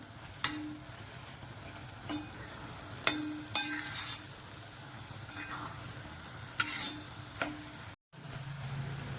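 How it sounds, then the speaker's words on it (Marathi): Semolina roasting in ghee for banana sheera is stirred in a pan, giving a soft steady sizzle with scattered scraping knocks of the spoon against the pan, close and fairly quiet, with no talking. "लाल सर होईपर्यंत चांगला भाजायचा आहे रवा चांगला लाल होऊन देऊया आपण"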